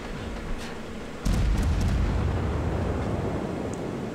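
Naval guns firing at the light cruiser Yubari in a warship video game, a deep rumbling boom that opens abruptly and rolls on as a sustained low barrage of blasts, fairly loud and steady.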